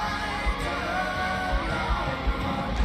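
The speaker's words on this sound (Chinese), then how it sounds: "台下发来阵阵尖叫。" A large concert crowd at an arena show screams and yells in a sustained, loud roar, with a few heavy thumps in the mix.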